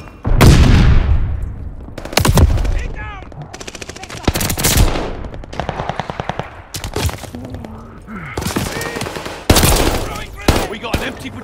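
Bursts of automatic gunfire in Call of Duty Vanguard come in loud clusters of sharp, rapid shots. Heavy booming blasts break in between, and brief voices call out among the firing.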